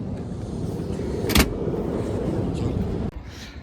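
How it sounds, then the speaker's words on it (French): Rear electric power window of an Opel Zafira Cosmo running steadily close by, a continuous motor whir with a brief clunk midway and a sharp stop near the end, no voices. "Vitre électrique à l'arrière, bien évidemment."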